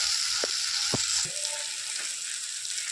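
Tomato masala fries in oil in a wok after mustard seeds, a constant close sizzle with a few soft stirring knocks early on, no voices.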